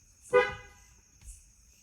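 A car horn sounds once in a short, loud honk from a driver waiting outside for a booked passenger, followed by a quieter, fainter tap of the horn about a second later.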